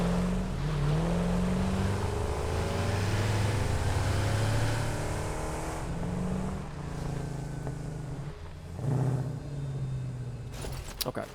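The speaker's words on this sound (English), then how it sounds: "Come on, little tractor, you can do it." Tractor engine from the video game Satisfactory, a steady motor drone with shifting pitch as it drives, holding loud and continuous before easing off, with a few clicks near the end.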